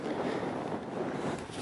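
Wind on Rodborough Common on a windy day: steady blustery rush buffeting the microphone, fairly loud and continuous through the short stretch, with no talk.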